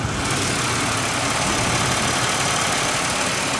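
A 2002 Buick Regal LS with the naturally aspirated 3.8-liter Buick 3800 Series II V6 idling, a steady, dense engine hum with broad hiss, constant and close with no variation.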